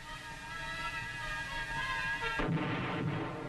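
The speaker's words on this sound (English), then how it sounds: "The big mobile guns continued to do their share in dispersing the enemy." Big mobile artillery guns fire in the field, with one heavy boom and a rumbling follow-up breaking over a continuous muffled background, heard at a distance.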